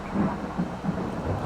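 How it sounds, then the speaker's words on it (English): Thunder rolling after a lightning strike, a steady broad rumble with soft low swells throughout, heard alone without voices. "It also produces a sound that we hear called thunder."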